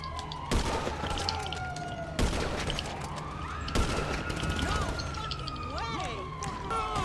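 Gunfire in GTA 5 Online on PS4 during a snowball fight, with several sharp bursts and shots mixed among chirping game sounds and whistling tones. The shots sound loud and close.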